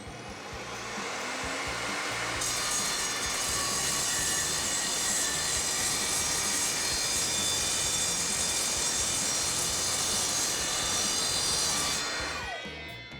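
A mitre saw cuts metal stock clamped in place, cutting on the downstroke. A loud, steady, high-pitched whine spins up, holds through a sustained cut of about ten seconds, then winds down, close and alone.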